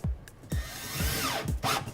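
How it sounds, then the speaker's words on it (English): A power drill drives screws into undermount drawer glides inside a cabinet, short whirring pulses with screw-seating thumps repeating about every half second, close and moderately loud. "A good idea is to get a couple more screws in that back one just to make sure that you're nice and secure."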